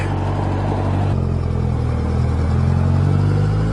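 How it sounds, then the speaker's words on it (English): Road traffic at the end of rush hour rumbles steadily, with cars passing close by in a loud, continuous engine roar and tyre noise that swells slightly partway through. "Oh my god, traffic."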